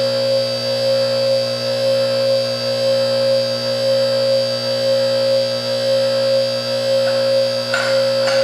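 A QuickJack BL-5000 lift's electric pump runs as a steady, loud, unbroken hum with a constant buzzing drone as the lift raises to its first locking position, ending in a brief clunk near the end.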